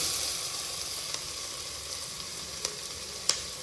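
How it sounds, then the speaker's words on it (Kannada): Okra added to hot oil fries with a steady, even sizzle, punctuated by a few light clicks and pops from the pan. "ಬೆಂಡೆಕಾಯಿ ಹಾಕ್ತಾ ಇದ್ದೀನಿ"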